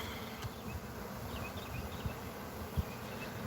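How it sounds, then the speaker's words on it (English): Honeybees buzz steadily outdoors, a close insect drone with a few louder bumps and thuds near the end. "We got bees trying to land back where they used to be."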